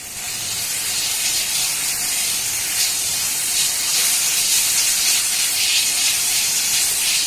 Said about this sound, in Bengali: বাটারটাকে প্রথমে একটু ভালোভাবে মেল্ট করে নেব